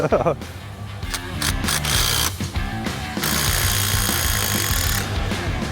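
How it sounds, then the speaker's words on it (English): Scraping corrosion and mud off a metal part to seat a flocking ring during a teardown, rough continuous grinding scrapes loud and close, with motor-like drone underneath and brief breaks between strokes. "Just scraping the corrosion and the mud off of this here so that this flocking ring will sit flat on there."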